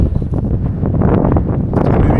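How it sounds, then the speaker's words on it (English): Cold wind blowing across a farm in Texas, a steady loud rushing buffet hitting the microphone throughout with gusty swells. "it's still cold and windy"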